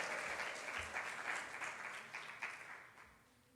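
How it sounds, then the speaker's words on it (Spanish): Church congregation applauding as an offering of clapping during a Spanish-language sermon; steady dense clapping fills the whole span at moderate distance, easing off slightly toward the end. "Dele una ofrenda de palmas al acontecimiento"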